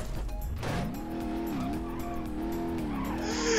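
A Nissan S13 drift build in BeamNG.drive slides with a loud, sustained engine wail that rises and wavers in pitch, joined by squealing tires throughout and a harsher screech near the end.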